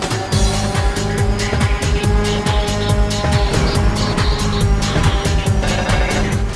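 Ridge Racer 7 racing game car drifting, its tyres squealing in long repeated screeches over a loud steady engine roar and pulsing music, continuous and close throughout.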